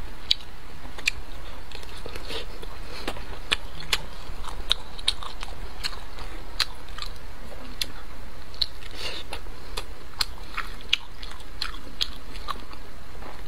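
Steady close-up chewing of smoked, boiled pork belly: soft wet mastication with frequent small crisp clicks and bites, repeating at an even pace for the whole stretch, with no talking.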